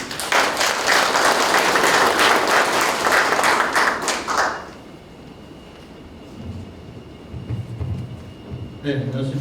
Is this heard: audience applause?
yes